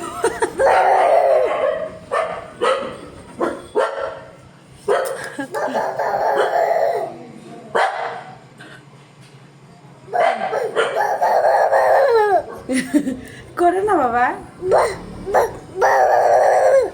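A dog barks in repeated bursts, and a child imitates the barking with long yelping, howl-like cries that alternate with it. Someone speaks briefly between the sounds, all loud and close.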